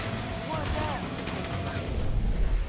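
Rapid gunfire in the video game GTA V, a dense, continuous burst of shots over heavy game noise and a low rumble, loud and steady for the whole stretch.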